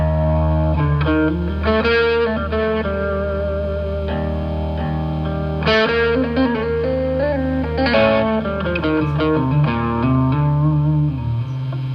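Electric guitar with effects plays notes in the Lydian mode over a sustained low drone, the tone slightly distorted and echoing, continuous for several seconds without talking.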